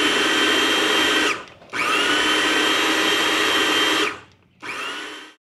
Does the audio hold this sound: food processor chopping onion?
yes